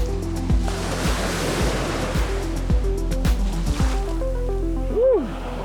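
Ocean surf washing onto a Florida Panhandle beach, a steady broad wash with repeated low thumps, likely from wind buffeting, and a brief rising-and-falling whistle-like tone near the end.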